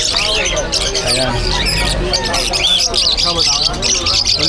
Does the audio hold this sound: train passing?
no